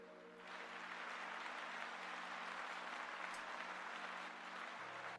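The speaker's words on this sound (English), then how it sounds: "let's give Quatus a round of applause." Steady applause from a crowd carries on for several seconds at an even level, sounding slightly distant and thin.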